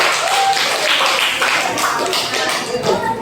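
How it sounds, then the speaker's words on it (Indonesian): Clapping from a small audience at an Indonesian teacher-training singing performance assessment, a brisk burst of hands close by with a voice briefly underneath. "Tepuk tangan untuk komentar"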